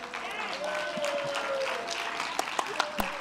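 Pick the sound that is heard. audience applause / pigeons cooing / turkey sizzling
audience applause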